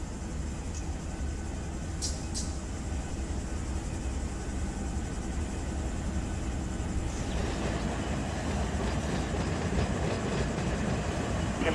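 A heavy freight train in the Run 8 Train Simulator game rolls steadily through a junction on a Southern California line, with a loud, continuous rumble and a few brief metallic squeals and clicks.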